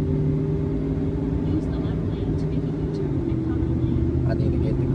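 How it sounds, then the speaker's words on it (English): Wheel lift tow truck driving on the road, a steady loud low engine and road rumble throughout, with faint intermittent clicks above it. "We in the wheel lift truck"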